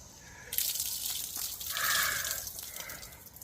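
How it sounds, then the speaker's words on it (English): Water pours and gushes from a small bottle in a few close splashing bursts, loudest in the middle, with no talking. "I'm going to take my little bottle of water that I poured myself"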